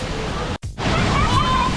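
Steady roar of spray at the base of Looking Glass Falls, a dense broadband rush close by, with a brief dropout and wind buffeting against the microphone.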